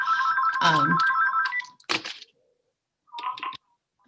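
A mobile phone rings loudly and close by in an office during a planning commission meeting, with a bright electronic ringtone burst, a sharp clatter, then a shorter second ring before falling silent.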